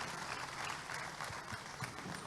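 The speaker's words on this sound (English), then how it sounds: "A round of applause for our president." Audience applause for the president at an opening ceremony, a dense continuous wash of clapping from a crowd, fairly faint and steady throughout.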